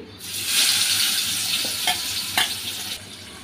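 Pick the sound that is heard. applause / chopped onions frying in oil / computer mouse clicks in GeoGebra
chopped onions frying in oil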